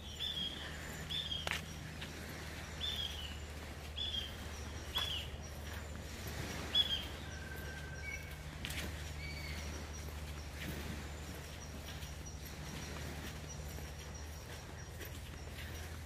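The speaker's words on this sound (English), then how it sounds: "We can hear birds and crashing waves." On an island beach in Papua New Guinea, scattered bird calls and chirps ring out over a low, continuous wash of waves, with footsteps and faint insect noise in the background; the surf stays soft and distant.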